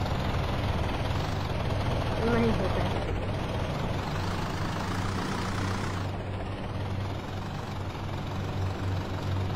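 A tractor engine in the mobile game Indian Bike Driving 3D, a steady low rumbling drone with a shifting whine above it, continuous and fairly close, with a brief spoken word over it.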